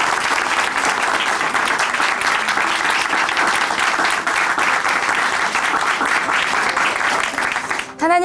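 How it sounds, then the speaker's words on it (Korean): Applause from a church congregation at Chuncheon Hanmaum Church after a testimony, sustained dense clapping from a large group filling the room, steady and even throughout. "다시 한번 큰 박수 보내드릴게요"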